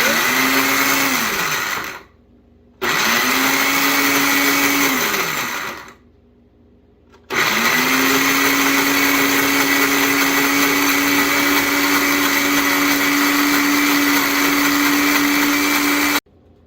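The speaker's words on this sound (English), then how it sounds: "We're going to blend this until it's smooth." A kitchen blender whirs loudly, blending vegan cinnamon roll ingredients until smooth, running in three bursts with brief pauses between them and a long steady final run, its motor pitch climbing and holding.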